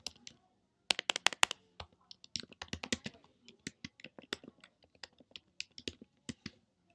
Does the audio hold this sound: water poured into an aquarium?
no